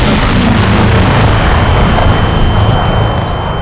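Cars explode in a pile in the Fallout 4 video game, a loud, continuous roaring blast with dense low rumble filling the whole stretch and no talking.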